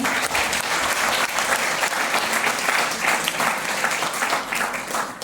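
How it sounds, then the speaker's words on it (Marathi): An audience gives loud, sustained applause, dense clapping filling the room steadily for several seconds before easing slightly at the end. "माझ्या वडिलांसाठी एकदा जोरदार टाळ्या झाल्या"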